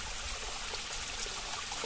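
A small mountain stream on the forested slopes of Mount Semungklung in Trenggalek flows steadily, a soft continuous trickling wash heard close by with no voices.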